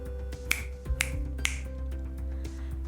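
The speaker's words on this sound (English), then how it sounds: "Simon says snap your fingers or just give it your best shot" Finger snaps from kids playing a Simon Says game, a few sharp distinct clicks spaced about half a second apart over a low steady background hum.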